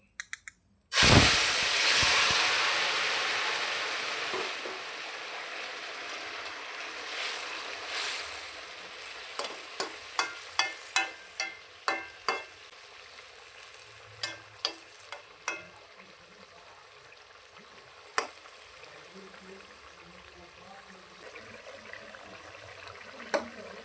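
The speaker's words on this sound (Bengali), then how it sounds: "আমি তরকারিটা ঢেলে দিচ্ছি" Bata fish curry with Malabar spinach poured into a hot pan over fried radhuni seeds, bursting into a loud hissing sizzle that slowly fades, followed by scattered spoon clinks and scraping against the pan.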